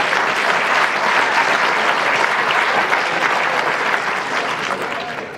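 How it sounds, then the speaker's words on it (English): An audience at a county address applauds with a dense, sustained clapping that holds strong and thins slightly toward the end, no speech over it. "Give him a round of applause."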